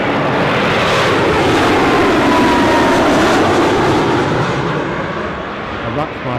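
An Air France airliner in its hop livery arrives from Paris Charles de Gaulle at Newcastle Airport, a loud, steady broadband jet roar close by that eases off slightly near the end.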